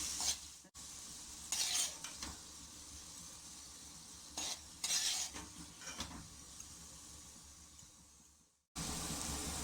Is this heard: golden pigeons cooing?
no